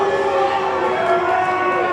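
A wrestling crowd reacting at a live Bash at the Brew show in Hialeah, a sustained roar of voices and cheering that holds steady and loud across the whole moment.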